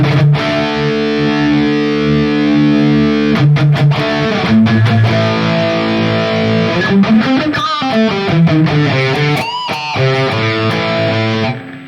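Electric guitar played through a Harley Benton vintage overdrive pedal into a Valeton GP-200 running a Rectifier amp patch with no internal distortion block, giving sustained crunchy chords and single-note runs, loud and continuous with no talking.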